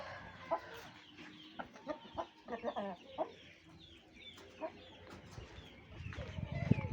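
Roosters placed outdoors cluck and give short calls in scattered, fairly faint bursts, with a rougher, louder stretch of noise near the end.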